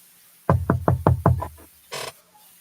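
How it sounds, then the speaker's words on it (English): Five sharp, evenly spaced knocks on a bedroom door, loud and close, followed after a short pause by a brief rustling noise. "Now is not the time to knock on my bedroom door."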